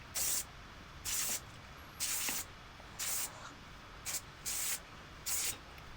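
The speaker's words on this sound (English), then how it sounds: "Spray it in a bit." Hair spray misted onto boho braids in seven short, sharp hissing bursts, evenly spaced and close up, with quiet pauses between them.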